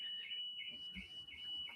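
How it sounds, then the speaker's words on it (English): A car alarm sounding outside in a suburban neighborhood, a steady high electronic tone with warbling pulses, faint and distant. "being a hellish suburbia with car alarms going off"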